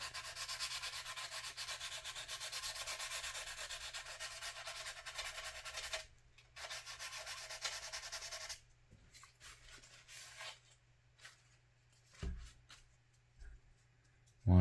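Sandpaper rubs filler putty on a 1/535 scale USS Iowa model ship in close, continuous scratchy strokes, pausing briefly, then resuming in short bursts with faint handling noises under a low steady hum.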